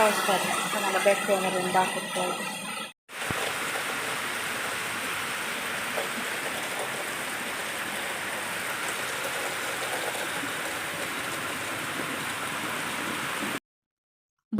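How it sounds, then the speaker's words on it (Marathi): Heavy rain pours down in a steady, dense hiss that barely changes, with brief talking at the start and a sudden stop near the end. "धो धो धो असा पाऊस पडतो सगळीकडं पाणी पाणी झालेलं आहे"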